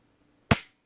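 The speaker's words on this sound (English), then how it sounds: "Let your finger come forward a little bit until you hear the click" A single sharp mechanical click from a Glock 23 pistol as the trigger resets during dry-fire practice, close and crisp against near silence.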